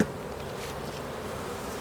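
Steady, dense buzzing of many bees while a beehive is split, close and continuous throughout with no pauses.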